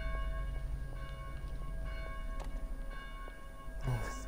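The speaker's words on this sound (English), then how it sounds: "Maybe you can figure out how to silence those blasted bells." Church bells ringing in the video game Dead Island, sustained metallic tones hanging over a steady low rumble, with a few faint strikes spread through the passage.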